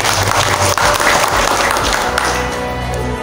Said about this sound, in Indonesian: Sekali lagi boleh tepuk tangan dulu dong buat Bapak